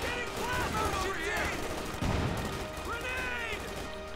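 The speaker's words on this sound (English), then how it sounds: "And there we go. Grenades going off." Grenade explosions and gunfire crackle in Company of Heroes 2 battle, a dense, continuous barrage of bursts and thuds beneath a tonal game score.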